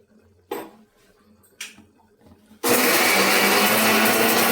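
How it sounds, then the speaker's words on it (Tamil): Mixer grinder blending onion and tomato for peanut curry: two short clicks and bursts as the jar is set in place, then the motor starts abruptly into a loud, steady, high whirring grind that runs to the end. "இப்போ நான் போய் இதை அரைச்சிட்டு வந்துடலாம்"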